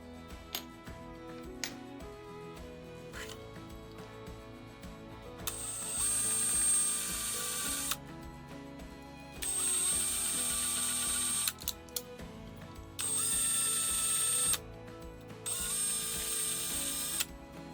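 Drill bits of 2.6 and 3 mm bore into a Victorinox Classic pocket knife, widening and countersinking screw holes; the loud whirring comes in several separate bursts between quieter mechanical clicking, with no talk.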